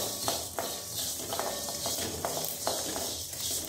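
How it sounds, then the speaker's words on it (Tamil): Coriander and Kashmiri chili fry in hot oil in a pan, giving a steady, close, even sizzle with a few light clicks of stirring, and no voices. "கொத்தமல்லி நல்லா வாசனை வர வரைக்கும் வறுக்கணும்."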